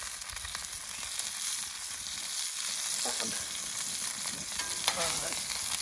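Venison shanks fry in oil inside a Dutch oven, a steady bright sizzle and crackle with a few scraping, clattering touches from the pot, and no talk.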